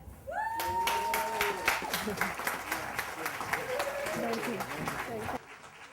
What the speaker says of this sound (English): get on your feet and give another round of applause to Francis Moore Lappe.